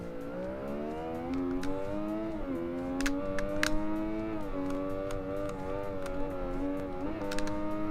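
Motorcycle engine in the Ride 2 racing game, a steady buzzing drone with pitch rising and dipping through gear changes and throttle shifts, continuous and fairly loud throughout.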